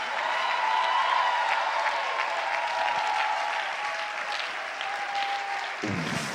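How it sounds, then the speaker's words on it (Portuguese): A congregation at an evening family church service applauds in a dense, sustained roar of clapping from a large crowd, holding steady for several seconds before cutting off near the end. "essas pessoas não estão me aplaudindo. Estão aplaudindo Jesus Cristo"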